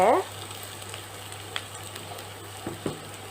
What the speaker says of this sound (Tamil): ஸோ இப்போ நம்ம வெங்காயம் வந்து நல்லா வதக்கிடலாம்